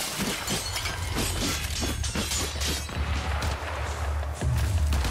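Glass shards shattering in the Warframe open world, a run of sharp crashing breaks over a dense low game rumble, loud and close.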